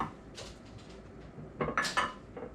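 Rosemary garlic butter mixed in a bowl, a few quiet scrapes and clinks of a utensil against the dish, with a louder burst of stirring near the end.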